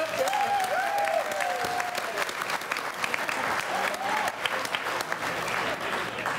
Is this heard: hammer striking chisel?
no